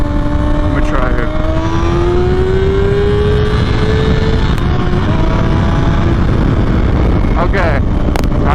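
Engine of a 2023 Kawasaki ZX-6R 636 motorcycle rising in pitch as it revs through quick-shifted gears, steady and loud under heavy wind buffeting from riding, with a rider talking over it.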